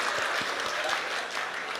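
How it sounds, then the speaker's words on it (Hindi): A short burst of audience clapping at a Hindi comic poetry gathering, a dense, even wash of applause with a few distinct nearby claps, no talking over it. "अब वही लोग ताली बजा रहे हैं जो मॉर्निंग वॉक पर नहीं जाते"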